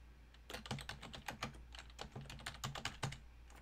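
Username and password are typed on a computer keyboard in quick, uneven bursts of close, crisp keystrokes with short pauses between groups.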